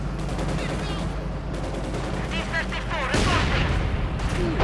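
Rapid bursts of gunfire crackle through a Company of Heroes 2 battle, with sharp repeated shots layered over a thick, constant combat din that swells louder partway through.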